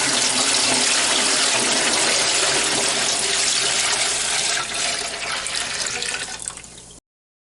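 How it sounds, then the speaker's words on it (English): Water pours steadily into a pot holding jars being readied for canning stock, a loud, continuous gushing rush like a running tap that holds for about seven seconds and then cuts off abruptly. "we're going to cover them over with water."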